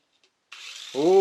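A Mini 4WD toy car from the Dash! Boomerang line, just assembled, starts up: a hissy rush of motor noise builds and then settles into a loud, steady high electric whine close by.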